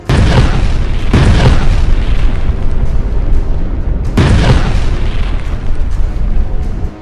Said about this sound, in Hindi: बेरूत से 100 गुना बारूदी धमाके यहां हुए हैं।